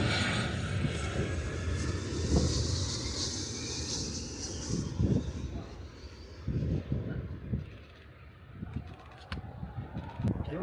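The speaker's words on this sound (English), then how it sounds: "This is a big plane." A large aircraft flies low over a runway with a loud, sustained engine roar and a pitch sweep as it passes close by, while birds chirp faintly in the background.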